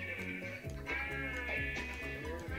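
Repeated sheep bleats in Minecraft, overlapping and continuous, loud and close, with a steady high tone running underneath.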